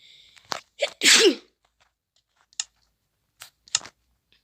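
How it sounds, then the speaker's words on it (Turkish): One sharp, close human sneeze bursts out, followed by a few faint scattered clicks in an otherwise quiet room. "İnşallah hoparlöre yakın hapşırmamışımdır"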